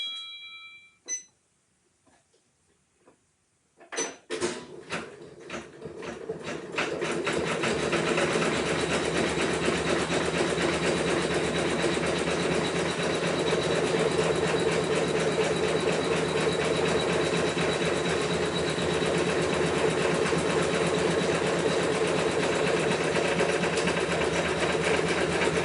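An embroidery machine sews a basting stitch on appliqué fabric for an in-the-hoop wall hanging. A few short beeps come first, then a steady, fast mechanical whir and needle clatter runs on unbroken.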